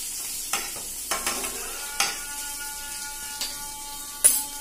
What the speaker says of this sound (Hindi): इसे चला देती हूँ अच्छे तरीके से चलाएंगे हम